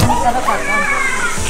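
Water pours from a spout at a temple site in Rajapur, Ratnagiri, making a close, continuous sloshing splash across a brief moment with voices in the background.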